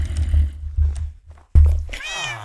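A cat in the Minecraft video game meows, with a bright, rising and falling call near the end after some lower rumbling game sounds; close and fairly clear, with no talk over it.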